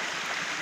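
A river in the Antique province countryside flowing steadily, a broad, continuous rushing wash of water heard up close and fairly loud, with no talking over it.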